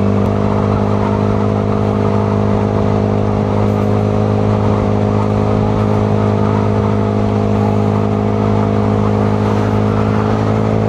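Several motorcycles pass by on a roadside after a breakdown, a loud steady engine drone with strong low harmonics sustained close by for about eleven seconds.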